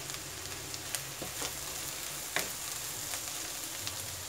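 Ivy gourd (tindora) fries in a pan with a soft, steady hiss, broken by faint scattered ticks and pops.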